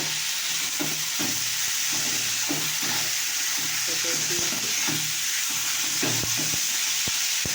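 Food fries in a pan for a fried recipe, a constant loud sizzle and steamy hiss with repeated scraping and knocking strokes from a utensil stirring the mixture.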